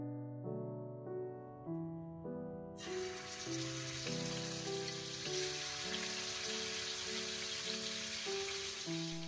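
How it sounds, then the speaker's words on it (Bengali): Chicken frying in white oil starts sizzling and crackling halfway through, a bright, steady hiss that stays loud to the end, under instrumental background music with slow melodic notes. "চিকেন ভাজতে গেলে এর থেকে যে জলটা বেরিয়ে আসে, ওই কারণে তেল প্রচুর ছিটে আসে"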